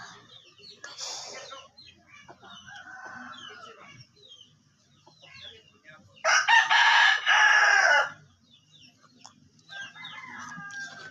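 Chickens cluck in short bursts and a rooster lets out one loud, close crow mid-way, with scattered softer clucks around it and no talk.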